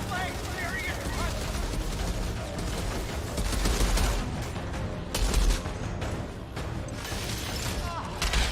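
Rifle fire in the video game Outriders, dense bursts of shots and crashing impacts that blend with a thick game soundscape, fairly loud throughout with a heavier cluster midway.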